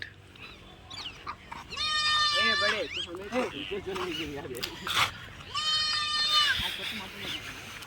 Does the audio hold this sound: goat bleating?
yes